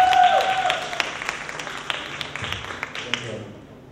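Audience applause at a stand-up comedy show, loudest at the start and fading into scattered claps over a few seconds, with a short tone and some murmuring underneath.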